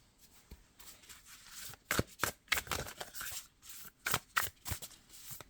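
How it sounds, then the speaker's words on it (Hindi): Tarot cards are shuffled by hand close up, with quick papery riffles and slaps in irregular bursts, some sharp and loud, against a quiet background. "मैं आप लोगों के सामने ही शफल करके रख रही हूँ"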